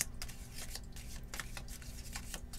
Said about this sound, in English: These are very hard to shuffle.